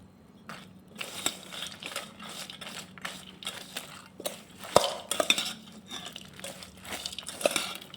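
Farali bhel with tomatoes and sweet chutney is tossed together with a spoon in a bowl, close scraping, clinking and crunchy stirring strokes in an irregular rhythm, no voices.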